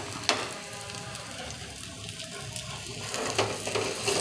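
Bread toast frying in a pan for a spicy veg toast, a soft crackling sizzle with a few sharp clicks and scrapes, fairly quiet and steady.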